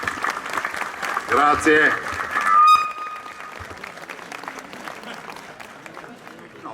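An audience applauds a president at a public event, a short burst of clapping under a loud amplified voice that fades as speech continues.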